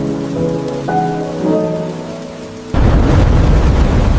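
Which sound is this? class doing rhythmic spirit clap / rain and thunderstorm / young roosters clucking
rain and thunderstorm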